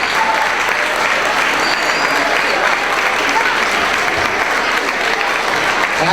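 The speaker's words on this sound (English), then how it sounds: "let's give our Strive for 5 students a round of applause" Loud, dense applause fills a school awards assembly as the crowd honors over 100 students, a continuous roar of many hands clapping close by with no talk over it.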